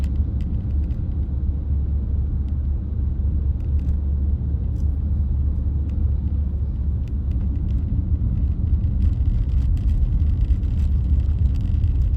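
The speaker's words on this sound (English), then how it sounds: "UPS truck." A UPS delivery truck drives past on a mountain road near Mesa Verde, a steady low engine rumble that holds at an even level throughout with faint clicks on top.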